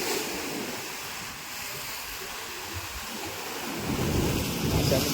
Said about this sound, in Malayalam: ഇപ്പം നമ്മളിവിടെ ഇരിക്കണതിൻ്റെ തൊട്ടടുത്തൊരു തിര വന്നു കേട്ടോ